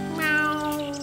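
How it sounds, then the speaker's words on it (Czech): A cat gives a single clear, drawn-out meow, close and alone, rising then falling in pitch over about a second. "Kočka chce od pejska, ať řekne mňau."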